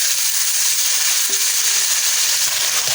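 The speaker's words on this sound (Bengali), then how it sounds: "এবার মাখানো মাংসগুলো দিয়ে দিলাম।" Marinated duck meat hits a pan of lightly fried onions with nutmeg, giving a loud, steady, close-up sizzle and crackle that carries unbroken throughout.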